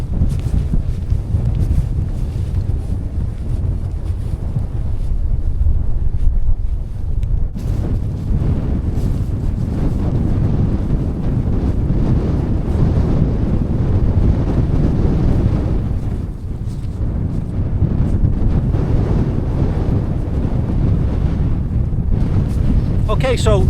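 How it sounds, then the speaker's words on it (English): Strong wind buffets a camera microphone on a snowy winter hillside, a loud continuous low rumble with gusts that swell and briefly drop, steady throughout. "The wind's starting to pick up now. You may hear it on the camera"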